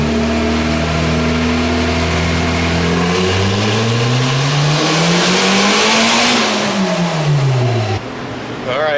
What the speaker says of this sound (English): I'm doing just kind of quick, quick short bursts with the car